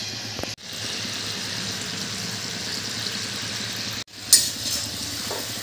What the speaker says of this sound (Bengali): এবার উল্টে পাল্টে এগুলো লাল লাল করে ভেজে নিতে হবে।